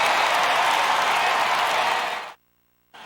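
A stadium crowd in the MLB The Show 18 baseball video game applauds and cheers loudly and steadily for a departing pitcher, then the sound cuts off abruptly to silence before resuming faintly.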